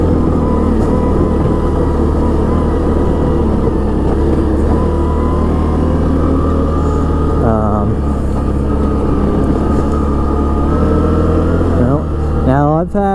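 A Can-Am Outlander Max 650 XT V-twin ATV engine runs steadily at close range, a continuous loud drone that rises in pitch briefly with throttle blips near the end.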